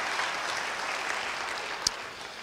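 A church congregation applauds during a sermon, a steady even wash of many hands clapping at moderate loudness throughout, with one brief sharp knock near the end.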